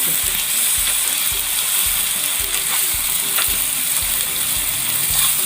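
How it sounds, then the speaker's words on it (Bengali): Vegetable peel dish sizzling and frying in a pan while being stirred, with steady loud sizzle and repeated low scraping strokes of the spoon in a regular rhythm, no talking. "এটা এবার নাড়িয়ে দেবো"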